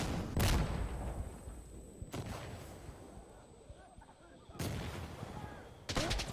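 Gunfire in the shooter game Insurgency Sandstorm on the Summit map, with a few loud, close bursts of shots spaced a couple of seconds apart over low background rumble.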